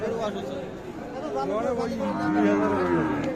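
Cattle low at a livestock market selling Friesian and crossbred bulls, a drawn-out moo rising over a steady murmur of people talking nearby.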